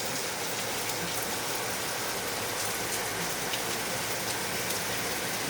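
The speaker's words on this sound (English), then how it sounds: "We're finally getting some rain." Steady rain falls on a dark morning, a dense, even hiss of drops on surfaces continuing unbroken and moderately loud throughout.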